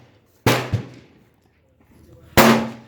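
Two loud, close 9mm gunshots, about two seconds apart, ring out during an ammunition test, each a sharp crack followed by a decaying echo.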